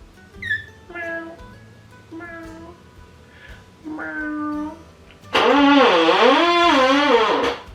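A fluffy pet cat meows several times close by, in short, separate cries. A much louder, wavering sound follows that drowns out the room.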